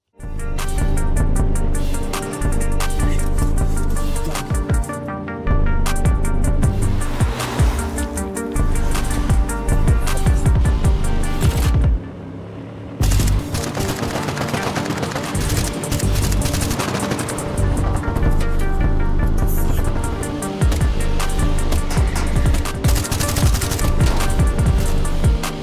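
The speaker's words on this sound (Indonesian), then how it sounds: "Dan sampailah kita pada adegan tembak-menembak seperti kejadian di awal film." Gunfire in a film shootout, with criminals using advanced weapons: dense, loud, continuous bursts of automatic fire and shots over a thick soundtrack, with one brief lull midway.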